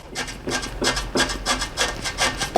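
A worn car lower control arm bushing creaks rhythmically about twice per second, a dry grinding squeak with each up-and-down movement of the suspension, close by.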